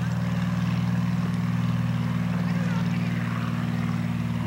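A propeller airplane runs its engine for a skydive takeoff, a loud, steady droning hum with a strong low buzz that holds constant throughout, and no other sound breaks through.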